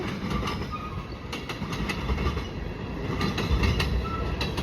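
A CN freight train with tank cars, led by locomotives 2655 and 2312, rolls through Marinette, Wisconsin, its steady loud rumble of wheels broken by rhythmic clickety-clack joint clicks and faint metallic squeal, close by.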